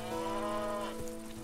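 Cattle mooing near a lake in hot weather, a sustained low, harmonic-rich lowing call that holds steady and then fades, close and fairly loud with no talk.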